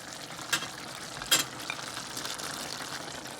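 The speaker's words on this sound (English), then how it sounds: "Now we're going to add them in to the meat that's over here cooking on the stove" Halved garlic cloves hit meat already cooking in a pan on the stove, giving a soft, steady sizzle with two sharp utensil clicks early on and no talking.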